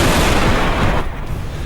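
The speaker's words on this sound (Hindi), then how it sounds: "एक जोरदार धमाके के साथ बम नीचे आ गिरता है" A loud bomb blast from a jet attack, a dense broadband roar filling the clip that cuts off sharply midway and leaves a lower rumbling tail.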